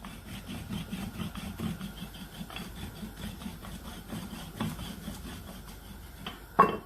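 Chapati dough dusted in plain flour is rolled out with a rolling pin. A soft, steady rubbing and rolling sound goes on throughout, close and low, with a sharper knock near the end.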